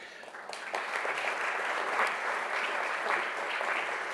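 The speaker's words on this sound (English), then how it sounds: "maybe we'll hold our applause to the end because there's several" Sustained applause from an audience at an evening event, steady and fairly loud throughout, a dense wash of clapping with no talking over it.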